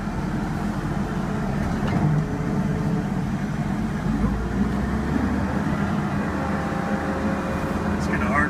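A Prairie Mini Project T9.615 driving off, with a steady low engine rumble and mechanical hum at moderate loudness that carries through the whole stretch, along with faint background noise.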